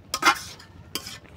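A fish head goes into a cabbage curry in a hot pan, giving a sharp clattering stir followed by a second, shorter scrape and soft sizzle close by.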